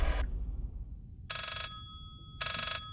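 A telephone in the Layers of Fear horror game rings in three loud electronic bursts, a short one at the start, then two longer rings after a silent gap, with no talking.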